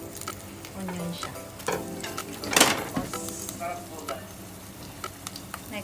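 Onion sizzles and fries in a pan at the start of a chicken sauté, with a steady crackle broken by scraping stirs and one louder clatter midway, all close and fairly quiet.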